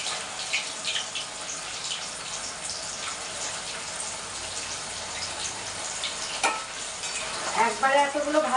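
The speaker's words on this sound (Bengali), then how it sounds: "তেলটা গরম হয়ে গেছে, চটজলদি পনিরগুলো ভেজে নিই একটু" Paneer pieces fry in hot oil with a loud, steady sizzle and stirring throughout. Sharper crackles and clatter build near the end, and no one speaks.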